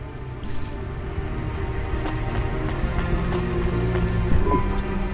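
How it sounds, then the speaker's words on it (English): Steady rain falls in the neon city of the video game Cloudpunk, a continuous close hiss of rain on hard surfaces with scattered drips and splats and no voices. "Don't let all the rain get you down."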